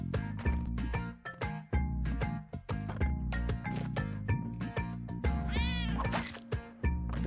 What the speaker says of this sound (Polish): Tam jest kotek.